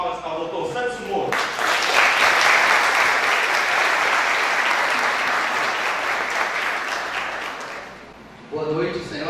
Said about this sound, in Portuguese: uma salva de palmas ao Dr. Santos Moura